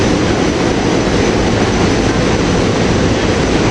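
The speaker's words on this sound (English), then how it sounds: "Here we got Temple University train 9708 taking off from 30th Street Station" SEPTA Temple University commuter train 9708, with railcars 109 and 110, pulls out of Philadelphia's 30th Street Station as a loud, dense, steady roar of wheels and motors that fills the scene without pause.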